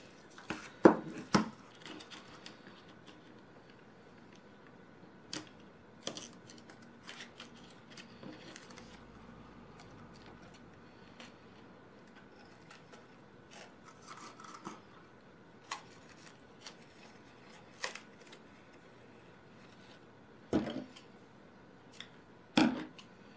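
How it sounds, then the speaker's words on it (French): Scissors snip through the protective backing on a small piece of ribbon, giving a few sharp, close cuts and light rustles scattered across a quiet room. "Il faut que je coupe la protection."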